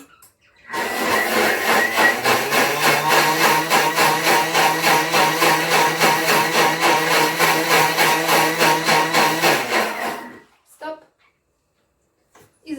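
A food processor whirs loudly at full speed setting ten, a steady dense motor roar with rhythmic churning for about ten seconds before stopping abruptly.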